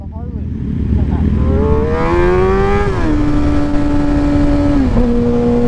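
Harley-Davidson motorcycles riding past on the road, a loud sustained engine drone with a pitch that climbs and then steps down as the bikes go by, steady and close throughout.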